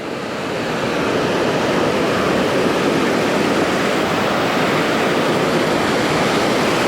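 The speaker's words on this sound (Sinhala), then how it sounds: "මේකට එන පාරේ ඇත්තම දොලක් ගලාගෙන යනවා." A stream flows beneath a wooden bridge on the road toward Hatton, a steady, dense rush of water heard close and loud throughout with no other sounds.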